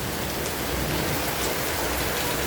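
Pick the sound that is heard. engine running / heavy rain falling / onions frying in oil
heavy rain falling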